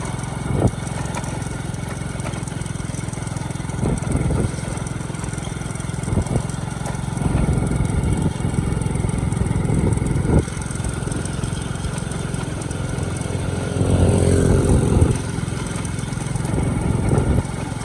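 A motorbike rides through Vang Vieng town in the morning, its mid-pitched engine droning steadily close by with rising and falling revs and occasional bumps.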